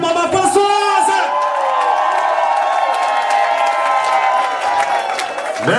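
Audience cheering, whooping and applauding loudly for Mama Françoise at an evening event, a sustained roar of crowd noise with clapping and shouting voices throughout.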